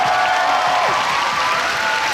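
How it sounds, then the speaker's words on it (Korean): A crowd at a Samsung event in Korea applauds, a dense, even wash of clapping and cheering at steady volume throughout, with a faint voice or whistle rising briefly over it. "예, 박수 부탁드립니다."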